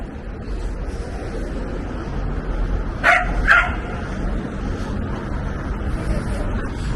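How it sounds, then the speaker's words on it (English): Assistance dogs on a shopping street in Southport, England, giving two quick sharp barks in the middle amid steady outdoor street ambience. "Very social dogs. I think they're assistance dogs based off of the sign."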